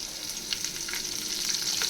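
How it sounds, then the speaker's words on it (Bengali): Mustard seeds and curry leaves fry in hot white oil for a tempering, making a loud, continuous sizzle dotted with small crackles and pops throughout. "দিয়ে দেব ফোড়নের জন্য সর্ষে সর্ষে আর কারি পাতা"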